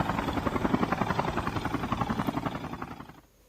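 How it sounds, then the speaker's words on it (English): A helicopter in a Call of Duty Mobile battle royale match gives a fast, rhythmic rotor chop, loud and steady, before fading out abruptly near the end. "spots the 2 people in a heli"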